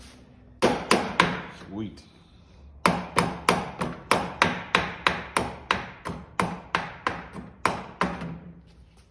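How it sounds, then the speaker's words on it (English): An old Snapper mower part struck repeatedly with a hammer, sharp metallic blows landing close and loud in a steady rhythm after a brief pause, with one short spoken word early on. "Go to beating on it with a hammer"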